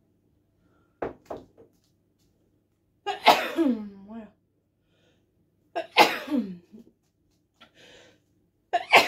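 Two loud sneezes a few seconds apart, each with a sharp intake and burst, followed by a single brief spoken word.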